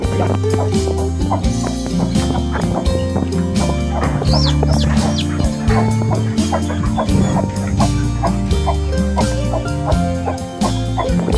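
Newly hatched native chicks and a broody hen in a Filipino backyard, with clucking and cheeping running steadily throughout over a dense, busy background, with no talk.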